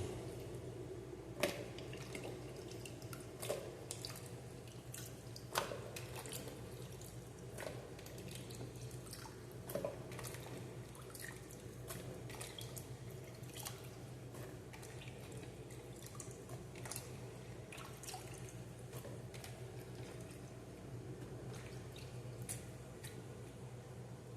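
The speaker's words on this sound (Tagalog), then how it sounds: "Last na wasing natin sa gulay" Water drips and splashes faintly in a kitchen sink while vegetables are washed, irregular soft wet clicks and squishes over a low steady background, with no talking.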